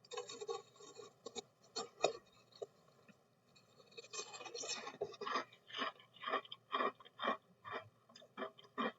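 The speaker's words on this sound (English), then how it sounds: "Yep, it has that textbook crunch that makes it Cinnamon Toast Crunch." Crunchy Cinnamon Toast Crunch cereal being chewed close to the mic, a run of crisp bites and crunches that grows louder and more rhythmic in the second half, with no talking.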